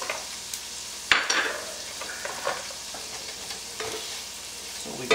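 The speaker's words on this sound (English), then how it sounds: "We go ahead and mix everything." Chopped white onion, garlic cloves and shrimp are stirred in a sizzling pan, with soft frying hiss and a few clear utensil scrapes and clacks up close, no voices.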